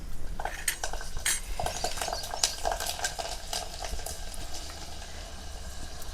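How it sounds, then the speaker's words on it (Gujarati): Garlic cloves and asafoetida hit hot oil in a pan for tomato rice, with a soft sizzle under close clinks and scrapes of a metal spoon against the cookware. No one speaks. "તેલ ગરમ થઈ ગયું તો એમાં આપણે પહેલાં છે ને હવે હિંગ નાખી દેવી. જો હિંગ નાખી દીધી. હવે આ લસણની કળિયું છે એ નાખી દેવી."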